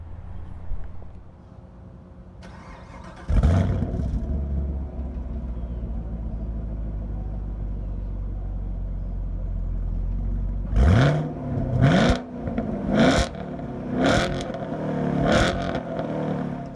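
A 2017 Chevrolet Camaro SS idles with a low rumble, then its engine revs up sharply and shifts through several quick accelerating bursts, loud and close.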